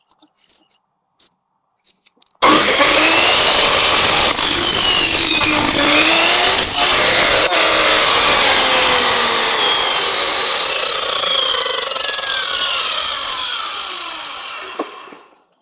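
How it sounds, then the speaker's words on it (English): A power saw bites into timber for a wooden gate with a diagonal brace, a few faint taps first, then a loud, steady whining cut that runs on and fades at the end. "then we cut it along this timber"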